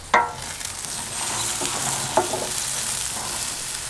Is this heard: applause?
no